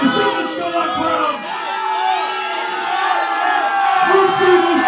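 A sellout wrestling crowd at an SICW Wrestling Explosion event roars and cheers continuously, with whoops and shouted voices swelling loudly throughout.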